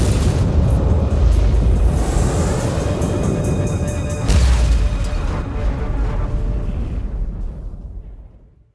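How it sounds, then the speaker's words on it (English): Automatic defense turrets attack the player in a video game, producing a continuous loud barrage of booming blasts and sharp cracks that rumbles on for several seconds and then fades away. No one speaks. "Inquisitor, the automatic defense system has been activated. The turrets are attacking you."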